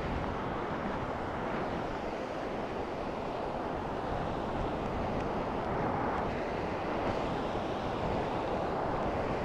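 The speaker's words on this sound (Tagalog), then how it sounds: "Laki ng alon dito guys." Big ocean waves driven by Typhoon Odette pound the shore in Iloilo, a steady loud roar of surf mixed with strong wind buffeting the microphone, continuous throughout without clear breaks.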